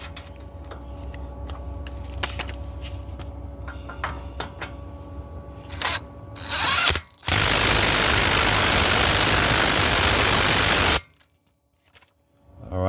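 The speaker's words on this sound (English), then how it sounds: "I'm going to tighten up this castle nut down here first." Tightening a castle nut on a tie rod of a 2004 Ford Explorer Sport Trac XLT 4.0L, with close ticking and ratcheting clicks followed by a loud steady roar of a power tool for several seconds before stopping abruptly.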